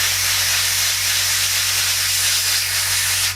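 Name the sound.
spray painting a wheel hub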